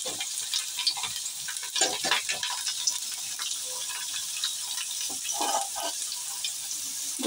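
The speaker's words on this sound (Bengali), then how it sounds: "কচুটা আমি ভালো করে একটু ভেজে নিয়ে তুলে নিচ্ছি।" Chopped taro sizzles and frying in oil in a pan, a steady soft crackle with intermittent scraping and stirring noises across several seconds, moderately quiet and heard alone without talk.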